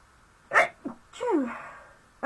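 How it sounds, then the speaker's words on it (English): A single sneeze from a person at a craft table, a short sharp burst followed by a softer breathy exhale, fairly quiet and close. "Excuse me, I'm going to sneeze."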